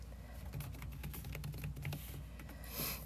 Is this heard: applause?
no